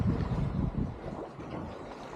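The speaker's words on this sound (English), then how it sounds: "we've got both the sails up, running square, a lot of flapping going on" Sails flapping on a sailboat running square with both sails up on a rolly passage to Heron Island, a steady low rushing and fluttering with wind buffeting the microphone throughout.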